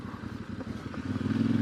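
Voge Valico 800DSX Rally motorcycle riding on and off road, a steady low engine drone that climbs and gains strength over a couple of seconds, with no talk.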